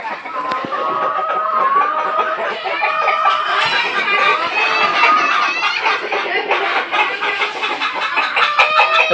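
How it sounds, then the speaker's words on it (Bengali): A crowded flock of layer hens clucks and chatters continuously, many birds overlapping at close range in a busy, steady din. "এই সকল হচ্ছে লেয়ারের মুরগি"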